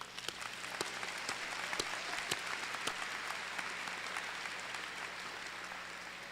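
An audience applauds at a community college commencement ceremony, a steady wash of clapping from a large crowd heard at a moderate distance, holding evenly throughout.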